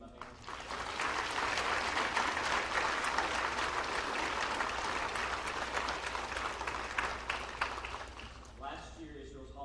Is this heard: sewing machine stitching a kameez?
no